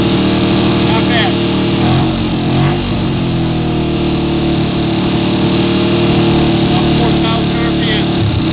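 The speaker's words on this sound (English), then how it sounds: "that's been my video for the startup of the Yamaha" A Yamaha motorcycle engine runs loudly and close by after startup and is held at a steady fast idle around 4,000 RPM, a dense continuous drone with someone talking over it.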